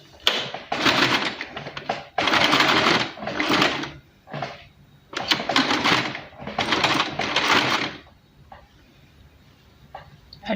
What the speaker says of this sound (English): Okay, so now it's time to stitch.